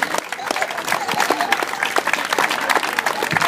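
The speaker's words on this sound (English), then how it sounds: "Let's hear it for George Daurio, 2013 Sheffield Award winner" Audience applause for a 2013 Sheffield Award winner at a ceremony: dense, sustained clapping from a large crowd filling the room evenly for several seconds, loud and close, without a break.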